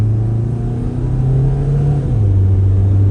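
A car accelerates hard during a 0 to 60 test, its engine droning loud and close with a rising tone that drops at a gear change before climbing again, no talk over it.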